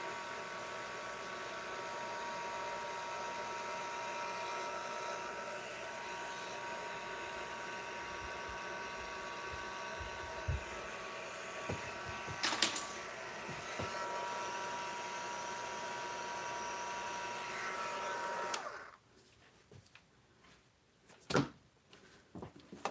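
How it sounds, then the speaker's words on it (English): A heat gun on its lowest setting drying ribbon and ink for stamping crafts, a steady close blowing whir that runs unbroken for most of the time, then cuts off, followed by a few light clicks and knocks. "our heat gun works really nice if you just put it on the lowest setting, the #1 setting"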